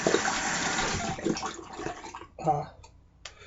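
Water splashing and sloshing as more is added to shaving cream lather for a straight razor shave, a steady wet swirl with a brief louder splash near the end.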